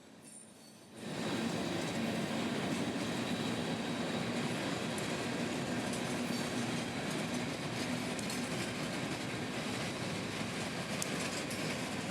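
A freight train led by a pair of late-1970s EMD GP38-2 locomotives rolls past on a Central Florida line, a steady, loud broadband rumble with wheel clatter that starts abruptly after a quiet second and continues throughout.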